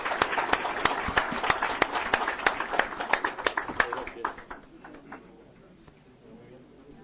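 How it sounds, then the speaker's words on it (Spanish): Scattered clapping from a small audience at an event for presidential candidates, sharp individual claps in a loose rhythm that thin out and fade after a few seconds, with voices talking underneath. "Y le damos un aplauso a los señores candidatos y terminamos."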